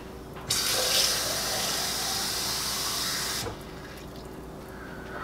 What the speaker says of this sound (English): I'm gonna go put some water in it.